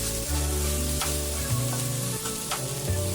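Okra fries in a hot pan as a continuous bright sizzle above a steady low tonal hum, loud and close throughout, with no voices.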